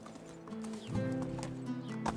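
Horse hooves clip-clop steadily while riding in the medieval survival game Medieval Dynasty, close and moderately loud over a continuous low game ambience, with no talking.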